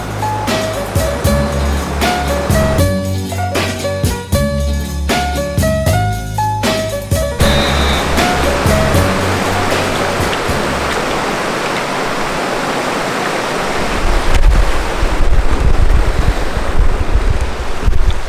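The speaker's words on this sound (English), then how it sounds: "This creek here behind me is Georges Creek" Georges Creek flows as a steady rushing hiss of water outdoors, with music playing over it for the first half before the water carries on alone, growing slightly louder toward the end.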